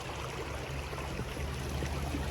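Water flows steadily in a mountain stream in Ladakh, a constant close rushing wash with no break and no voices.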